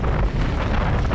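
Strong wind buffets the microphone during a steep mountain bike descent in a mass start race at Antur Stiniog, a loud, continuous roaring rumble that fills the whole moment with no talking.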